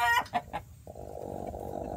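A chicken gives a few quick, close clucks, then goes into a steadier, throatier run of clucking that keeps up to the end of the short clip.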